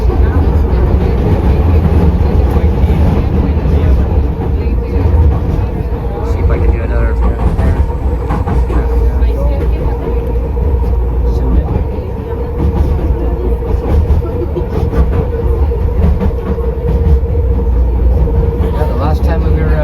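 Loud, steady train rumble and rattle fills the whole stretch, with voices murmuring faintly underneath.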